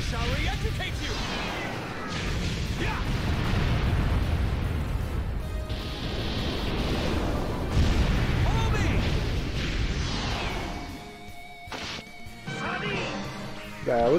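A flurry of fiery special-attack explosions in Disgaea 4, heavy crashing booms and bursts piling up continuously, loud and dense, with in-game voices and music mixed through.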